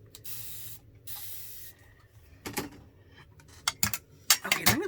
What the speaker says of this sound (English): Let me spray the palette.